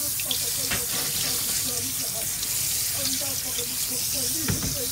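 Beef pieces for bulalo are rinsed under a running kitchen tap, a steady splashing hiss of water with intermittent knocks and handling sounds, close by; a voice speaks briefly.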